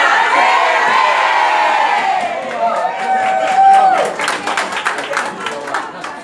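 A group at a community library network gathering chants a battle cry and cheers, loud crowd shouting rising to a held whoop, then breaking into clapping and scattered cheers.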